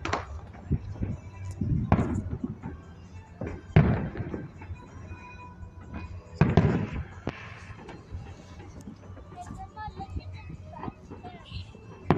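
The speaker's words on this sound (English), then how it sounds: "Alright, we have fireworks everywhere." Fireworks on the Fourth of July boom and crackle at a distance several times, with muffled thumps spread across a steady outdoor background and occasional faint voices.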